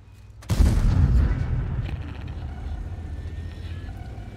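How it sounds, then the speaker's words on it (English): Artillery fire in World of Tanks: a single heavy boom hits sharply and then rumbles away into a long, fading tail. "Thank you, artillery."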